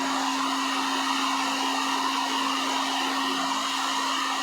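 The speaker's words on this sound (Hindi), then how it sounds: "हॉट एयर गन, इसके जरिए से मैंने अभी गर्म करूँगा। ये पाइप का सॉकेट बनाना है, इसको हीट करके पाइप का सॉकेट बनाना है।" A hot air gun blowing steadily to heat PVC pipe for forming a socket, giving a constant close whooshing roar with a fixed motor hum, loud and even from start to finish with no talking.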